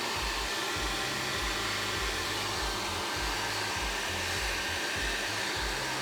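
A heat gun runs steadily as it melts heat-shrink solder sleeves over joined wires, giving a loud, constant whooshing blow with a faint pulsing low hum underneath and no voices throughout.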